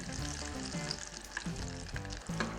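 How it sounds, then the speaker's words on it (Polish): Hot oil sizzles and crackles steadily as an ice cream ball fries, with a few faint clinks and stirring sounds. "moczymy ją w gorącym oleju, to znaczy smażymy"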